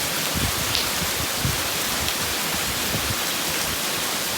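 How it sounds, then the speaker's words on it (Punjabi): Rain pours down in a dense, constant hiss, loud and unbroken, with faint drips and patters standing out now and then. "ਸਾਡੇ ਮੀਂਹ ਦਾ ਕੀ ਮਾਹੌਲ ਹੈ ਤੁਸੀਂ ਇੱਕ ਵਾਰ ਜ਼ਰੂਰ ਚੈੱਕ ਕਰ ਸਕਦੇ ਹੋ ਬੁਰਾ ਹਾਲ ਹੈ"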